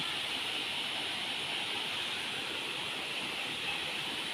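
Phurin waterfall roars as a steady, even wash of falling water, constant and unbroken, heard close with no voices over it.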